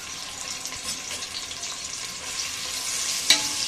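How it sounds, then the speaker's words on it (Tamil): A handful of onions frying in ghee until crisp for Hyderabadi chicken dum biryani, giving a steady close bubbling sizzle throughout with one brief sharper pop near the end. "ஒரு கை வெங்காயம் மட்டும் எடுத்து போட்டு நல்லா பொரித்து எடுத்துக்கலாம்"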